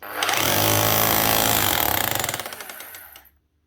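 A Makita rotary hammer drill with a flat chisel, pushed down under pressure, pounds loudly and continuously in rapid hammering, then sputters and winds down to silence.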